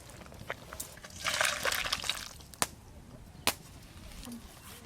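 Water from boiled potatoes and taro is poured off in a short, gentle slosh and splash, followed by a few faint clinks and drips, quiet and close in a home kitchen.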